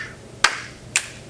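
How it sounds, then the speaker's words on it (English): Two sharp finger snaps about half a second apart, crisp and close over a faint room hum, with no talking. "When I snap my fingers and say go, they will go."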